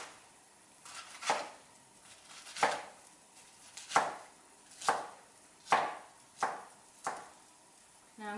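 A knife chops food on a cutting board while making taco rice: about nine sharp, close chops at an uneven, unhurried pace, each ringing briefly, with quiet pauses between and no talking.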